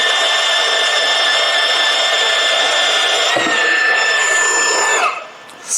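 A Bosch GCB 18V-127 cordless band saw cuts through wood with a steady, loud, close whine for about five seconds, its pitch dipping briefly midway before the blade breaks through and the motor winds down.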